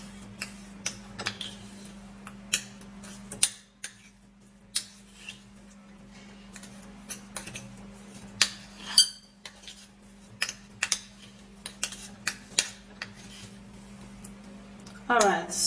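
A utensil stirs and scrapes a baking soda skin treatment in a small dish, producing intermittent clinks and taps against a steady low hum, with a voice talking between the sounds.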